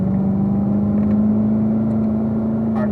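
A Corvette Z06 engine on a race track drones at a steady, loud pitch, holding one even tone the whole time with a faint whir, as if cruising under load while shifting up to fourth gear.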